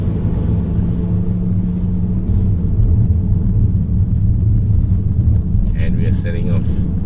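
A Rolls Royce Cullinan SUV with a 6.75-litre V12 pulls away, giving a steady low cabin rumble with road and wind noise throughout, and a brief higher clatter near the end.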